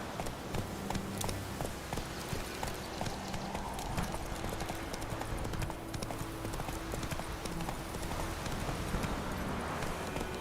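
Roach the horse galloping in The Witcher 3, hooves pounding in a fast steady rhythm throughout, close and continuous.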